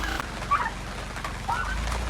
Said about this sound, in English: Here's the turkeys. They're getting so big.